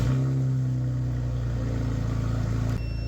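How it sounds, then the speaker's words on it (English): Car engine running and revving right after a jump start, a loud, close, steady mid-range engine drone with a slight pitch shift near the end. "to my delight, it had no struggles of starting up this car"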